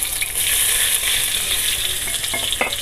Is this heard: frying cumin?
yes